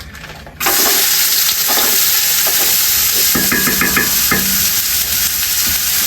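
Chopped onions hit hot oil in a clay cooking pot and break into a loud, steady sizzle, with clinks of stirring near the microphone and no talking.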